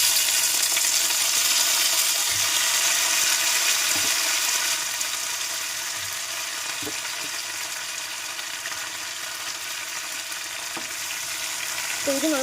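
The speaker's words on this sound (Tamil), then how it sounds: "இப்போ இது நல்லா வதங்கட்டும்." Tomatoes and garlic sauté in a pan for a garlic-chilli chutney, giving a steady, close frying sizzle with occasional stirring scrapes and no talk.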